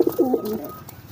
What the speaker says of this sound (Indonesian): Bekur-bekur juga, tapi giringnya keras.